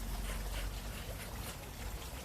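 Rushing waterfall in the background, a steady broadband wash of falling water that runs unbroken and fairly faint, with no other distinct sounds standing out.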